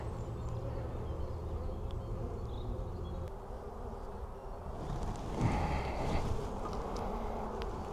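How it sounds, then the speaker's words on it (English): Honeybees drone in a dense, steady buzz during a hive inspection, loud and continuous with a slight swell near the end and no voices. "Good amount of bees."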